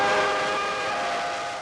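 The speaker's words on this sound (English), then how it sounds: "Chinese steam engine number 985 makes a magnificent sight in the mountains north of Peking" Chinese steam locomotive number 985 in the mountains north of Peking, a loud, sustained, multi-toned whistle blast that slowly fades, with no talking.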